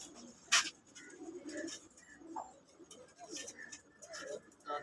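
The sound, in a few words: pigeons cooing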